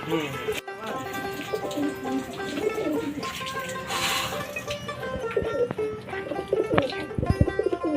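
Pigeons cooing in a loft of high-flyer birds, soft repeated coos mixed with someone talking nearby and scattered clatter and knocks.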